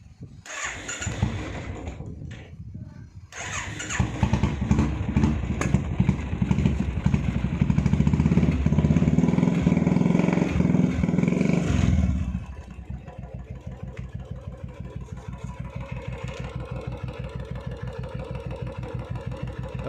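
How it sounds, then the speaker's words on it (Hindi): A Royal Enfield Bullet motorcycle with a leaking fuel tank is kicked into life after a few tries and then settles into its steady, thumping idle, close to the microphone with no one talking. "अभी देखते हैं बाइक स्टार्ट करके।"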